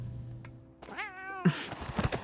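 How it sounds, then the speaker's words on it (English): A single drawn-out meow from a cat in the game Love and Deepspace, up close and clear, followed by a few soft thumps and light rustling. "The cat gives Xavier another once over before pouncing."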